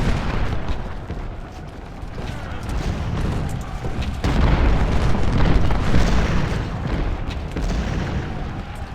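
Artillery fires in the American Civil War strategy game Ultimate General: Civil War at Bull Run, producing a dense, continuous rumble of overlapping booms and blasts that stays loud throughout.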